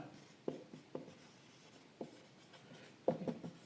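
A pen scratches and taps on paper in short, irregular strokes, faint and close, with a denser burst of scribbling near the end, while a math teacher works on linear equations.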